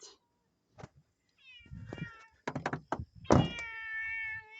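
A cat meows loudly and insistently several times, long drawn-out cries rising to a final yowl, with a few thumps from nearby objects between the calls.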